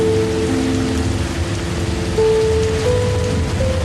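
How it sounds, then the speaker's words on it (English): Steady rain falls on a treehouse roof in a Costa Rican rainforest at night, a dense even hiss with faint tonal hums drifting underneath. "You stand for a moment and simply listen to the rain on the roof above you"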